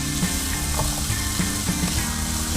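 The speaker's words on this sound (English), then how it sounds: "we've added our onions, our peppers, and we're going to saute that for probably about 3 minutes" Onions and peppers sizzle in a hot pan alongside sausage for Spanish chicken and rice, a loud, steady frying hiss broken by occasional stirring clinks.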